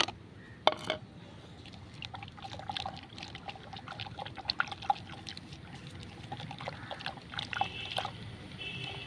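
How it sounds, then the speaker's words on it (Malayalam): An ash mixture is stirred into rice water, producing intermittent sloshing, dribbles and small clicks against the container, close and moderately loud across several seconds. "ഇത് കഞ്ഞിവെള്ളത്തിലേക്ക് ഇട്ടിട്ട് നന്നായിട്ടൊന്ന് മിക്സ് ചെയ്യും"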